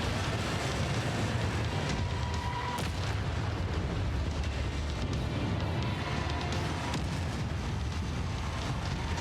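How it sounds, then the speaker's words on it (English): Battle explosions in MechWarrior 5 boom and rumble one after another, a dense, loud barrage of deep blasts and bursts that never lets up, with no voices. "Explosions everywhere."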